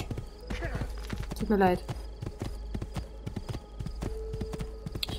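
Rapid hoof clip-clop of a horse in the video game Assassin's Creed 2, steady and close, with a brief whinny and a voice speaking over it.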